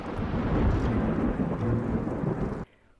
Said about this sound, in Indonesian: Tiba-tiba ada suara guntur.